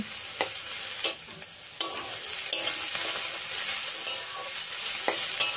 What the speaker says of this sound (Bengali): এখন হলুদটা ভালো করে মিশিয়ে নিয়ে সবজিগুলো আর একটু ভেজে নেব